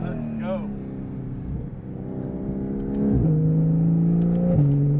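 A Porsche 992 GT3 Cup car with a crackle-tuned race exhaust drones loudly from inside the cabin. Its pitch holds steady, then steps down with gear changes and swells in volume partway through.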